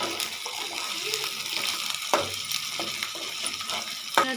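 Chili, turmeric and coriander spices cooking in a pan for matar paneer, a continuous close sizzle with intermittent stirring clatters and scrapes.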